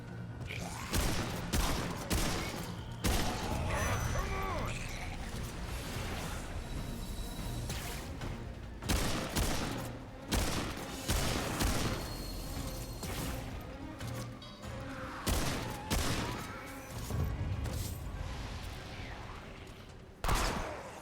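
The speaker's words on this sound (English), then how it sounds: "How did the rest of y'all not hear all those gunshots just now?" Rapid bursts of gunfire from a Remnant II firefight, dense and loud with repeated volleys and sharp impacts layered over game noise for the whole stretch.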